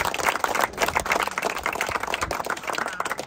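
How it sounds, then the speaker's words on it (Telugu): An audience at an Ongole bull pulling contest prize ceremony claps in a steady, crackling patter of many hands, moderately loud and continuous. "గట్టిగా చప్పట్లు కూడా అందరూ గట్టిగా"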